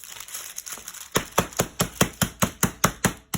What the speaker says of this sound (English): Then I'm going to take a rolling pin. I have a little small dowel. I'm going to smash this butter up.